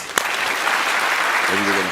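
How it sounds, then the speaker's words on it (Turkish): A short burst of studio audience applause for Koray on a Turkish word-game show, steady, dense clapping throughout, with a voice briefly entering near the end. "Ama ondan önce Koray Bey'e bir alkış daha."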